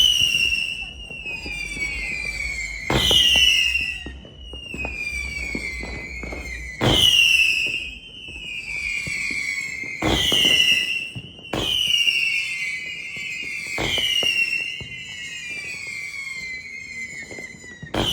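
Fireworks from a 50-shot cake go off in a repeated series at New Year's Eve in the Philippines, each sharp bang followed by a whistling, crackling tail, loud and close, with a steady hiss between bursts.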